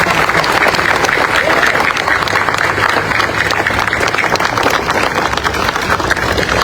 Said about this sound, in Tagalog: Pwede ba palakpakan natin ang pinakamalakas ng palakpak?